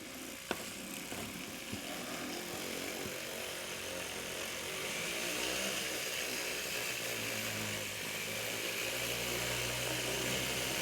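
A rotary tool whirs steadily while polishing a die-cast Hot Wheels Redline Bye Focal car with Flitz metal polish, a faint, continuous buzzing grind heard alone.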